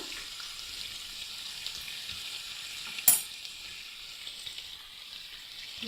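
Rice flour is stirred into vegetables frying over low gas, making a continuous soft sizzle with faint stirring scrapes and one sharp clank of the utensil partway through.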